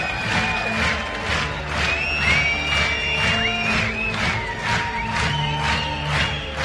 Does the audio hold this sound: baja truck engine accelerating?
no